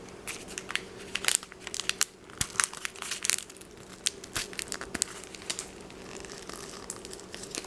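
Plastic packaging of loose leaf chai tea being torn open by hand, with close, irregular crinkling and sharp ripping bursts that come in uneven clusters, loud at first and then sparser.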